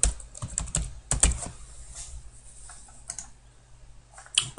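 Computer keyboard typing while setting up a 3D modeling project, with close, quiet key clicks in uneven bursts, several quick clusters and pauses between them, and no voices.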